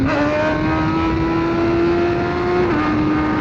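A BMW S1000R motorcycle accelerating hard in one gear without clutching, its steady engine note climbing in pitch and then easing slightly near the end, loud and close with no voices.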